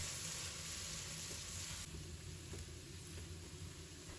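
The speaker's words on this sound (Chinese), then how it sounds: "给它炒至上色" Tofu stir-frying in a wok with dark soy sauce gives a steady, close sizzle and hiss that runs unbroken for several seconds, with a few faint scraping stirs.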